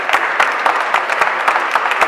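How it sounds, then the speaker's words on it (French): Audience applause at the BlackMovie 2011 film festival award ceremony: a steady, close burst of many hands clapping in an even, rhythmic pulse, heard alone without voices. "vous pouvez applaudir au fur et à mesure"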